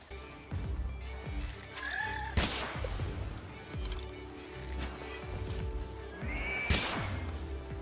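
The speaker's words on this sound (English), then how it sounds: "Is my horse just running this thing?" Horse whinnies in the game Palworld, two high neighing calls a few seconds apart over a steady game soundscape of thuds and background noise.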